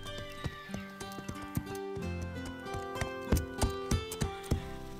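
Cartoon horse hooves clip-clop in a steady, even rhythm over a soft background score, the hoofbeats growing slightly louder toward the end.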